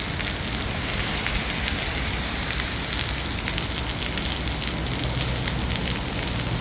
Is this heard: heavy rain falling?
yes